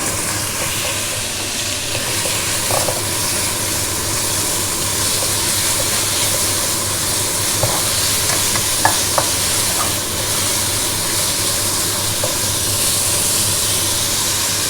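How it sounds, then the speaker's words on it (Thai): Beef pieces stir-fry in a hot pan with a loud, steady sizzle and hiss, punctuated by occasional clinks of a utensil against the pan. "จากนั้นจะใส่เนื้อที่เราหั่นเป็นชิ้นไว้แล้วนะครับ ผม ลงไปผัดเลยนะครับ"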